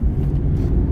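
Steady low road rumble from inside a moving car, a dense engine and tyre drone filling the cabin at close range with no voices.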